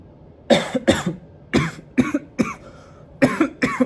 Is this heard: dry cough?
yes